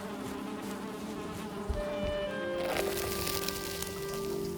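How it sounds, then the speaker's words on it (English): Bees buzzing in the video game Valheim, a steady close drone of insect wings with layered tonal hums, continuous throughout with a faint rustle underneath. "I think there are bees in here, right?"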